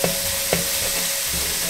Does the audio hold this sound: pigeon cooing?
no